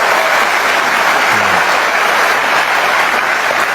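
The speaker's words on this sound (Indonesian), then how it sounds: "Kasih tepuk tangan dong, Cak Lontong." Steady applause from a comedy show audience for comedian Cak Lontong fills the whole stretch, dense and even, with no speech over it.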